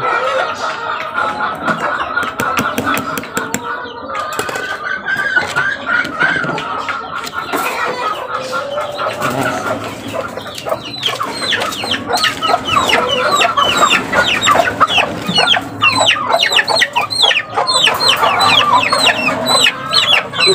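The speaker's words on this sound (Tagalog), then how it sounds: "ipakita sa inyo guys yung aking sisiw" Young chicks at home with a hen or rooster nearby, clucking and peeping steadily throughout, a busy flock chatter growing denser and louder in the second half, close to the listener.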